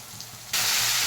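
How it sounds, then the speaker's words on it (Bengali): Nigella seeds and a large cut potato drop into hot oil, and a loud, steady sizzle suddenly bursts up about halfway through, continuing alone without pause. "এই তেলের মধ্যে দিয়ে দিচ্ছি 1/2 চামচ কালো জিরে, একটা বড় সাইজের কেটে রাখা আলু"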